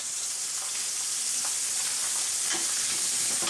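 Rib steak pieces sizzle seasoning-side down in a frying pan, a steady close hiss with occasional pops and crackles, no voices.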